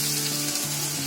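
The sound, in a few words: gravy sizzling on full flame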